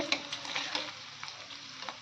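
Paneer frying in hot oil in a wok, a close, steady crackling sizzle with small pops and occasional stirring scrapes, moderately quiet throughout.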